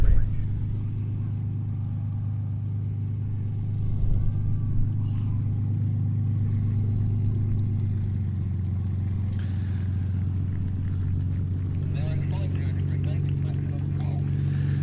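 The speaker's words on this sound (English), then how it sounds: "Taxiing back into park then, John Romain with the Spitfire PR11." A Spitfire PR11 taxis at an airfield display, its engine a steady low droning hum that holds evenly throughout and shifts slightly near the end, heard at a moderate distance.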